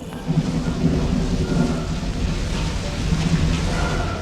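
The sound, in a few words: thunderstorm with rain and thunder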